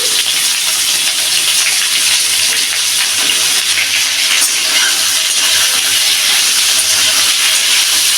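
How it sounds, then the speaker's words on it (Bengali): Pieces of squash fry in hot oil in a wok, giving off a loud, steady sizzling hiss that holds without a break, close up and with no talking. "এই তেলে এখন কুয়াশগুলোকে ভেজে নেব বলে তো এখন আমি কুয়াশগুলো তেলের উপর দিয়ে দিচ্ছি"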